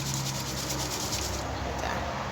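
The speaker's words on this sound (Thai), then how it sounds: "ฟังเสียงกรอบของหมกพริกจ้า" Crispy deep-fried chilies crunch and rustle close up in a continuous dry, brittle crackle, with no talking.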